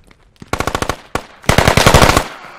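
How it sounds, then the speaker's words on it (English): Close automatic gunfire in the military shooter Squad: a short opening burst, a lone shot, then a longer loud rattling burst of rapid rounds with a quick even rhythm. "Someone's still inside. He's shooting."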